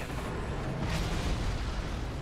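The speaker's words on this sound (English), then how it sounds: "Explosions!" Explosions in the video game Marlow Briggs, a dense, continuous roar of booming blasts and rumble that fills the whole moment, loud and unbroken with no voices.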